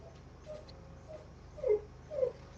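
A puppy that wants to go outside lets out a few soft, high whimpers, faint and somewhat distant, over a steady low indoor hum.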